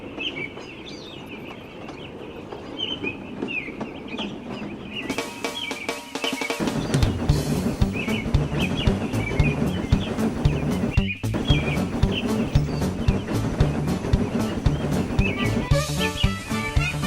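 Birds chirp and tweet repeatedly in a Trainz train-simulator game over a busy backdrop, with the scene growing louder and denser partway through as layered sounds join in.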